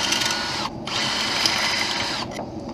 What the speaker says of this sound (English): I'm going to unbolt this bracket here just to get it out of the way.